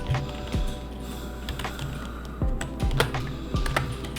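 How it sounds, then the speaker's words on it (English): Typing on a computer keyboard while setting jersey numbers in Inkscape, with clustered key clicks and a few heavier thumps over a steady low hum, close and fairly loud, no talking. "I'm just literally going to just type the number."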